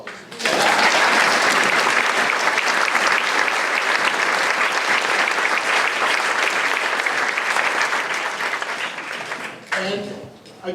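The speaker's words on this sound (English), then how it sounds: "I do think that this is an appropriate time for a big round of applause" At a middle school closing ceremony, a crowd breaks into sustained, loud applause that holds steady for several seconds, dips briefly near the end, then a voice speaks.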